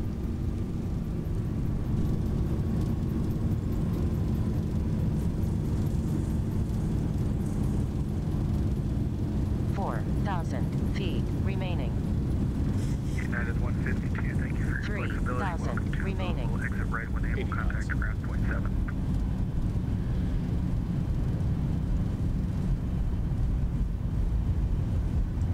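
Thrust reversers on a simulated Boeing 737-800 roar steadily through a landing in X-Plane 11, a loud continuous rumble that holds throughout while radio chatter and a voice cut in partway.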